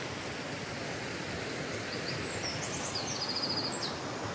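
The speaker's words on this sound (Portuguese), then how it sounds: "eu amo esse barulhinho dos pássaros" Birds chirping outdoors, brief high twittering calls rising faintly over a steady hiss of wind or rustling in the second half.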